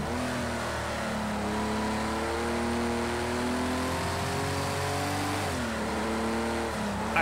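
Porsche race car engines roar at a race start at Sonoma in Project CARS 2, a steady loud drone with rising revs and gear changes, heard alone without talk.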